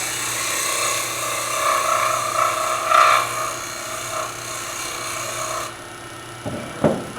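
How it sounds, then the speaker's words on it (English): Lathe cleanup cut on the wooden top of a Beads of Courage box, turned back almost to the tenon: a steady scraping, rasping hum of tool on spinning wood, close and fairly loud, cutting off near the end before a brief knock. "Just back down to the tenon, almost to the tenon. So I'm going to do a cleanup cut."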